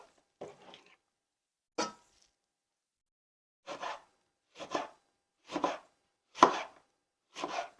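A knife slices produce on a cutting board for a juice, giving several distinct, close chopping thuds: a couple of scattered cuts, a pause, then five fairly regular strokes against a quiet background.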